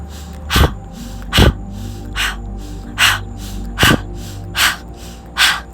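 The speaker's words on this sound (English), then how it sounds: "Now we chop and shorten the exhale, increasing the pace of the breath." Rapid chopped exhales in a guided breathwork session, sharp forceful breath bursts about every 0.7 seconds, close and loud with a quieter breathing bed between them.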